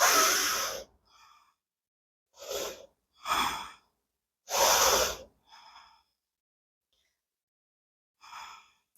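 Deep breaths during a power yoga flow come as a series of loud, close inhales and exhales spaced by silences, each followed by fainter breathy tails.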